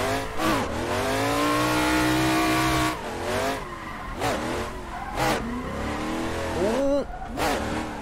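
Racing car engine in Assetto Corsa, set up for a drift championship, revving hard and dropping pitch through several quick gear shifts, with tire squeal; loud and close, no voices.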